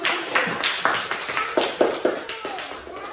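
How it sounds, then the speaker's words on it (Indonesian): Children in a classroom clap, a rhythmic series of distinct hand claps at an even pace, fairly soft, with voices mixed in. "Beri tepuk tangan untuk"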